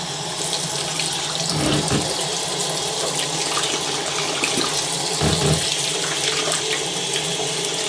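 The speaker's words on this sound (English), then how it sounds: "I start to fill the sink." Tap water runs steadily into a filling sink, a continuous close splashing rush with a couple of brief louder gushes.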